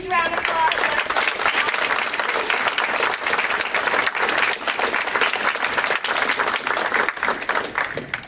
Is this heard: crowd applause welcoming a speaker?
yes